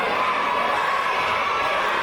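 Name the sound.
raucous wrestling crowd cheering in Liverpool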